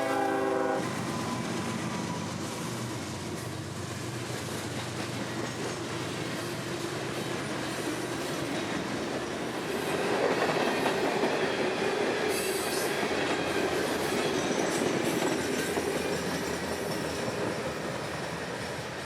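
Rock-laden freight train L743 rolling past on the rails in a Florida rain, a steady close rumble of cars with wheel squeal and clatter swelling midway and continuing to the end; no talking.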